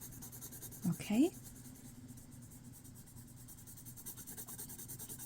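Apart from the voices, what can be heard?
colored pencil coloring on paper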